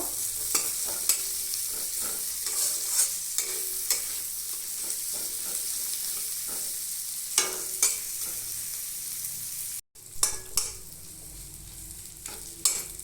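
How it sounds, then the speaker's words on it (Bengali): Chopped onions fry in oil in a pan, a continuous close sizzle broken by regular spatula knocks and stirring scrapes, with a brief cut near the end; no one speaks. "পেঁয়াজ কুচিটা ভালো করে ভেজে নেব।"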